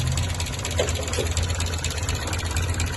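A Chrysler Alpine car engine idles after adjustment of its idle jets, a steady close rumbling with an even, slightly lumpy pulse and no talk over it.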